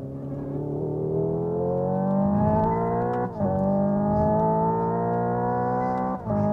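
A Hyundai Ioniq 5 N electric car accelerating hard, its loud synthetic engine-like tone climbing steadily in pitch, broken by two brief shift-like dips before rising again, close and with no voices.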